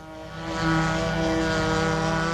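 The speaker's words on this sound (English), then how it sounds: "For those who like to fly but don't want to travel, there is the RC. RC, as in radio controlled." A radio-controlled model airplane from a local RC flying club flies overhead on a sunny day, its propeller engine droning steadily and swelling slightly louder as it passes, with no talk.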